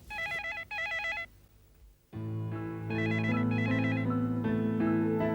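A telephone rings in two short electronic bursts, then after a brief pause a loud ringtone melody plays continuously.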